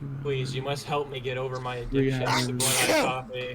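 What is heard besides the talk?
sneeze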